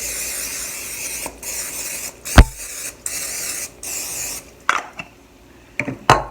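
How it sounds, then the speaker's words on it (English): Several short hissing bursts of cooking spray coat a donut pan, followed by scattered clicks and clatters of the metal pan being handled nearby. "So let's get the donut pan and spray it so that it doesn't stick."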